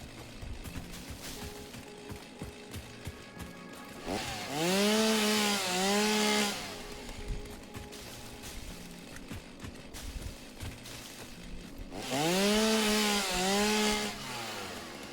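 A chainsaw cutting wood in the video game Satisfactory: two loud bursts of revving saw motor with rising and falling pitch, each lasting about two seconds, separated by quieter game ambience.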